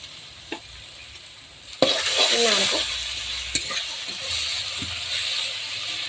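Browned onions frying in a pan as garlic paste goes in for a poppy-seed chicken dish: a sharp louder sizzle erupts partway through, then a steady close hiss with a few stirring knocks.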